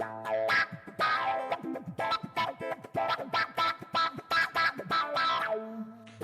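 Electric guitar played through a Line 6 Helix with a Q-Tron-style envelope filter and reverb, choppy wah-like quacking notes in a rhythmic run, loud and close, ringing out with a reverb tail at the end.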